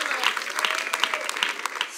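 Applause from a church congregation after a French-language sermon, steady mid-level clapping with some voices mixed in across the whole stretch.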